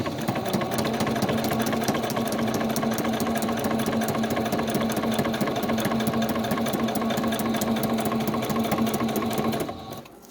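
A sewing machine runs a steady, continuous stitch across primitive journal tags for nearly ten seconds, close and loud, then stops abruptly.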